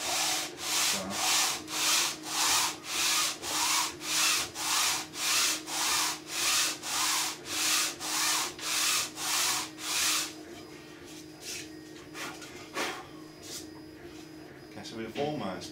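Hand sanding across the surface of a 3D-printed ABS mould part makes about fifteen rhythmic back-and-forth rasping strokes, close and clear, then stops as handling noises and a voice follow.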